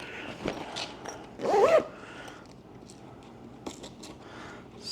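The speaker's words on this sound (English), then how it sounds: "Zipper it down." Zipper on a Kemimoto collapsible wagon pulled shut in one quick, fairly loud zip, with a few softer handling rustles and clicks around it and no talking.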